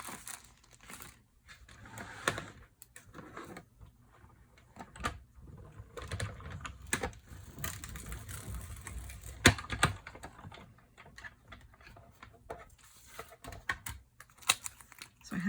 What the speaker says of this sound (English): I'm going to just run it through my stamp cut and emboss machine